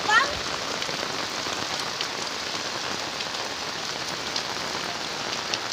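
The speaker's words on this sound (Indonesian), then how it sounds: "Ini lumayan deras. Mudah-mudahan hujan segera berhenti dan tidak tambah" Heavy rain pours steadily on surfaces during a flood in eastern Cirebon, a dense, even hiss with no breaks, close and loud throughout.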